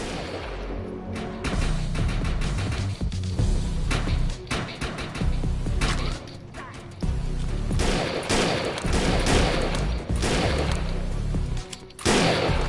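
Continuous gunfire in Defiance 2050 pounds away in loud, rapid volleys and booming impacts, nearly unbroken for the whole stretch with short lulls between bursts.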